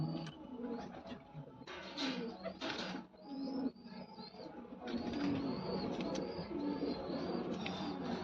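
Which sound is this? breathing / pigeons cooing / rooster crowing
pigeons cooing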